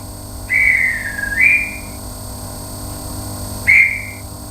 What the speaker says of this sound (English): So we need a dispatch whistle